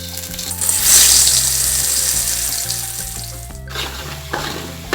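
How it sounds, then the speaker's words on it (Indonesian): Blended spice paste drops into hot cooking oil for fried rice vermicelli, setting off a loud, steady broadband sizzle that surges at the start and holds, with faint clinks and a brief stir-like break near the end. "Lalu kita masukkan bumbu blenderan yang tadi sudah halus."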